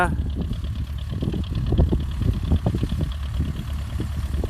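MTZ tractor engine running steadily while spreading fertilizer over a winter wheat field, a continuous low rumble with no pauses.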